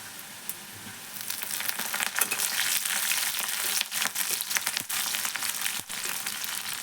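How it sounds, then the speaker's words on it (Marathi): Curry leaves sizzle and crackle loudly in hot oil, added to browned onion for a cauliflower curry, with sharp pops over a steady frying hiss. "कढीपत्ता घालू."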